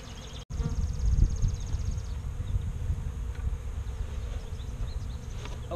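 Honeybees hum steadily around a hive during beekeeping work, a dense, continuous near buzz that holds at an even level throughout with a brief dropout at the start.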